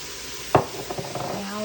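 Jalapeño, garlic, soy sauce and spices stirred in a hot pan, a sharp scrape of the utensil followed by a string of light clinks and a soft sizzle, close and short.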